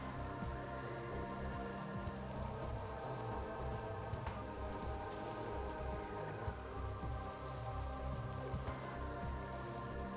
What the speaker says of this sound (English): Why do the raindrops fall through this one but not the other one?